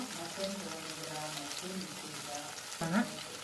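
Carrot, onion and cabbage fry in a hot pan, a close, continuous crackling sizzle with a sharper burst of stirring near the end.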